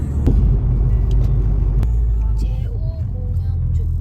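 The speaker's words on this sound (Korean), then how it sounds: "차 도착." A car arriving, heard as a loud, steady low engine and road rumble from inside or right beside the vehicle, with a couple of faint knocks and brief distant voices.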